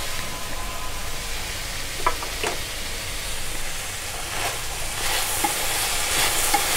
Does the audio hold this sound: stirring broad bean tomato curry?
yes